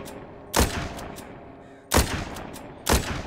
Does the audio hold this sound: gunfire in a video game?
yes